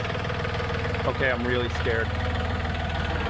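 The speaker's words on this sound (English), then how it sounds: "driving my tractor for the first time" A tractor engine idles at a steady, rumbling drone close by, running continuously while a person talks nervously over it.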